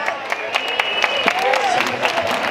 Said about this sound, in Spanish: fuerte el aplauso para nuestra festejada